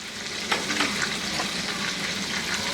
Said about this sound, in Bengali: এই এক মিনিটের মতো চিংড়ি মাছগুলো ভেজেই